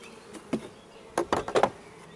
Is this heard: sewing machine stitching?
no